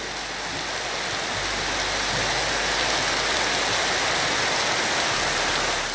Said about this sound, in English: the mod also has some waterfall sound effects for when water is falling into water